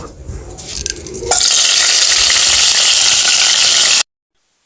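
Whole cardamom, cinnamon, cloves, cumin and black peppercorns hit hot oil in a pot for mutton head moong dal, bursting into a loud, steady sizzle after a quieter start, then cutting off abruptly.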